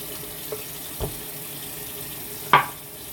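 Cold water runs from a bathroom tap, with a steady faint stream broken by a few sharp clinks and one louder knock near the end.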